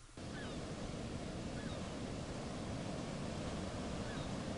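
Ocean waves in a video game, a continuous wash of surf noise that sounds close and steady at moderate volume, starting abruptly and running without pause or voices.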